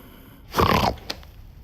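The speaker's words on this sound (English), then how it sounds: "Scrooge awoke in the midst of a prodigiously tough snore" A man snores once in his sleep in a radio drama of A Christmas Carol, a single rough, throaty snore lasting under half a second with a faint snort after it.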